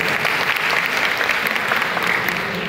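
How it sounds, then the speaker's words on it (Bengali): Steady applause from a crowd at a polytechnic institute skills and innovation competition in Cumilla, dense and continuous clapping that holds at an even level throughout without pause. "অবশ্যই আমার তরফ থেকে তোমাদের জন্য একটা করতালি উপহার থাকবে"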